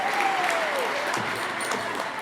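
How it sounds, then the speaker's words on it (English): Sustained crowd applause fills the room at a fiftieth-anniversary gala, a thick, steady wash of clapping with a faint voice briefly audible at the start. "Applause. More applause. Standing ovation."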